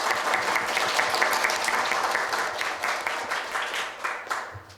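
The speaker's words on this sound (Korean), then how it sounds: "발제를 진행해 주시고 질문에 답변해 주신 미니언님께 큰 박수 부탁드립니다." An audience at a volunteer forum applauds a presenter, a steady wash of many clapping hands that gradually thins and fades toward the end.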